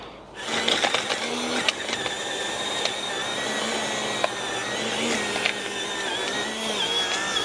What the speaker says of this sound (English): for a small portable battery operated tiller